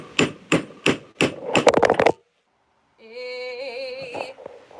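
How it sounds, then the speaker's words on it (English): A silver ring is beaten flat with a hammer on the flat spot of a vise, giving a series of sharp metallic strikes in an uneven rhythm that speed up into a quick flurry before stopping. Music follows after a brief pause. "I'm going to take my hammer here."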